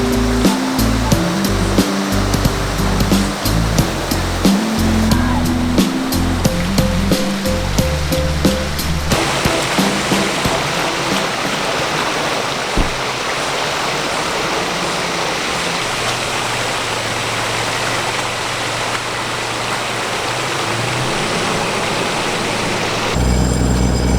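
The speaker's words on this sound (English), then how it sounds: "Another little creek just further along" A creek running high with water after heavy storms along a bush road near Glenreagh, a steady broadband rushing flow that holds at full strength, with a low engine-like hum and some tonal rumble in the opening seconds.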